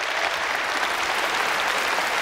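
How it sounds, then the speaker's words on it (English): Dense, steady audience applause at a magic awards show, loud and continuous without a break, greeting a gentleman volunteer called up to the stage. "Please give this gentleman a short round of applause."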